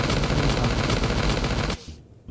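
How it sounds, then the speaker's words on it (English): Machine gun firing in the zombie survival video game Last Day on Earth, a loud continuous burst of rapid shots lasting under two seconds before cutting off. "there's a machine gun over there"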